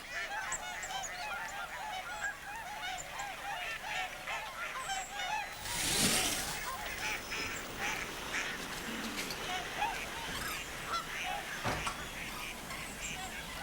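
Geese and ducks honk and quack in a dense, continuous chorus at Slimbridge, a big flock calling over one another at close range, with a brief louder burst of flapping or splashing midway.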